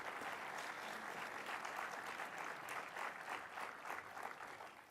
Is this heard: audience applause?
yes